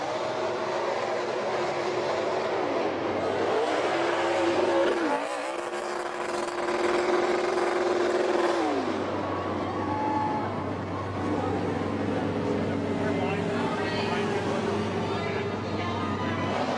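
A NASCAR race car does a smoky burnout on a victory lap at Las Vegas, its engine droning loudly and shifting pitch with rising and falling tones under an announcer's commentary.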